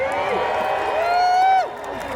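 A crowd cheers and whoops at a Renaissance faire joust, a loud swell of voices with a rising shout that peaks and drops off near the end.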